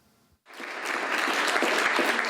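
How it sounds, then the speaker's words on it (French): An audience at an award ceremony breaks into applause for the prize winners after a moment of quiet, the clapping swelling quickly into a steady, dense ovation. "c'est elle qui applaudit les lauréats"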